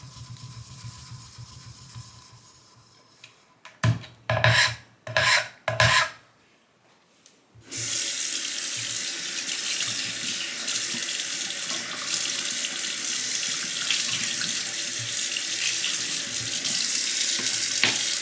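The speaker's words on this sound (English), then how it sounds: "I'm just rinsing the 5K stone." Running tap water rinsing a Shapton 5K whetstone, a few splashing rubbing bursts followed by a steady, loud continuous water stream.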